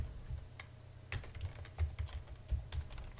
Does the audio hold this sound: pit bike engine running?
no